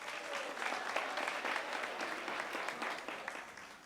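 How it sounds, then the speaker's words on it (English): An audience at a senior center gathering claps steadily for elected officials, a sustained round of applause from a sizable crowd that gradually tapers off. "So let's give all of our elected officials a round of applause."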